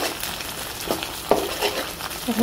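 Garlic and potatoes fry in oil for a potato and dried-fish dish as turmeric and chili are added, with a brief close sizzle and a few stirring scrapes.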